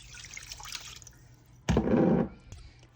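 Water is poured into a pot of grated ginger for homemade ginger cough drops, one short loud burst of splashing filling lasting about half a second after quiet kitchen background.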